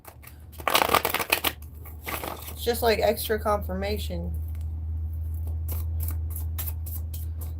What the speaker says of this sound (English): We'll shuffle them again to make sure.